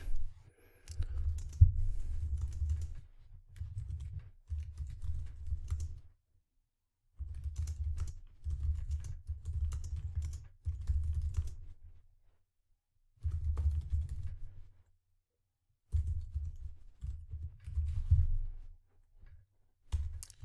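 Typing on a computer keyboard while entering a linear function into TI-Nspire software, heard as bursts of close, rapid key clicks separated by short pauses.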